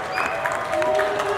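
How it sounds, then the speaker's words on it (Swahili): A church congregation claps and ululates in praise, a dense steady wash of applause with high trilling ululations and voices layered on top, close and lively throughout. "Pigie Bwana Yesu makofi na vigelegele"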